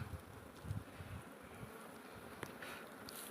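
Honeybees swarm around a wild hive on a rock outdoors in a village, a close, continuous buzzing drone with individual bees passing near and away.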